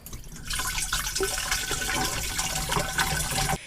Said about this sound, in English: I'm going to put some more water in there.